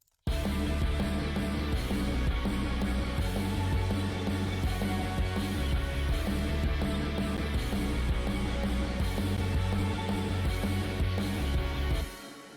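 Full mix of the hook from a song, with drums, bass and layered reverb-washed instruments playing loud and steady for about twelve seconds before cutting off abruptly.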